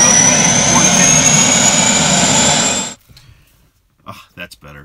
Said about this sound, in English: we all work in a noisy environment, whether it's a long, busy roadway or in a fancy helicopter.